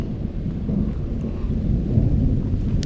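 Deep rolling thunder from a sizable approaching storm rumbles continuously and loudly, with steady low booming and faint rain in the background, heard alone without talk.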